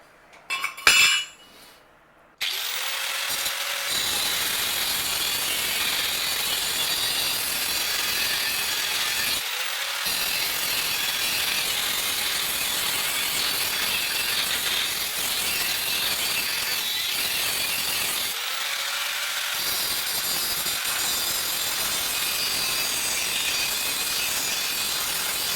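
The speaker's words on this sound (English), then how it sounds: "I took the cut-off wheel and cut the welds" A cut-off wheel grinds through welds on quarter-inch steel plate with a loud, continuous harsh screech that runs for long stretches, broken by a few brief pauses, after a short clatter at the start.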